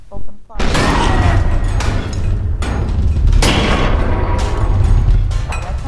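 A tank fires in the ragdoll sandbox game People Playground. Loud, heavy booms repeat several times, each blast blending into a dense, sustained rumble of explosions and mechanical clatter.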